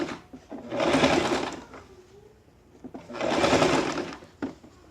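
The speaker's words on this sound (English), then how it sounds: "Go on stitching at about half an inch." Two distinct bursts of close, loud sewing machine stitching on a draped jacket, each about a second long, separated by a quieter pause.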